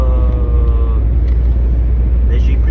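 Car interior while driving on the road, a steady low engine and road drone with faint tonal hum early on, a person speaking over it.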